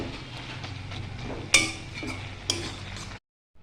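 A spoon scrapes and stirs cauliflower stalk chochchori in a pan, with quiet scraping and two distinct metallic clinks against the pan before silence.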